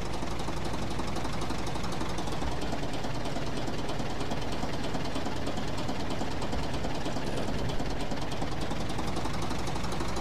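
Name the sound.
tractor engine ploughing in video game Professional Farmer 2014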